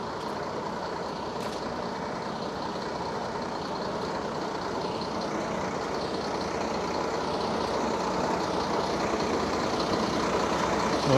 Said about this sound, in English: trucks delivering things.